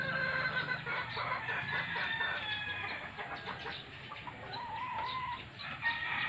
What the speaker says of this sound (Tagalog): Maingay yung mga manok ko.